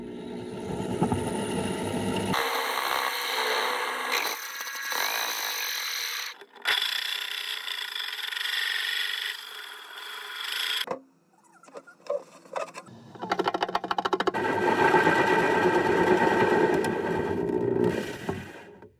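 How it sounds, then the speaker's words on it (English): Harsh, grinding drilling with a 2-inch hole saw that starts and stops in several stretches, with brief quiet gaps and scraping noises between, loud and close. "to drill with a 2-inch hole saw"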